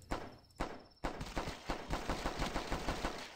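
A pistol fires in The Last Stand, a zombie flash game: three spaced shots, then a quick, even run of sharp, close cracks.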